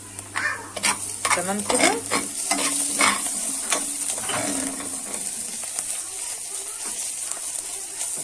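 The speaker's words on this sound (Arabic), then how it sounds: "البصله بتاعت المكرونه بتتحمر" Onion for pasta frying in a pan gives a steady close sizzle with scraping and stirring clatter, briefly under a few spoken words.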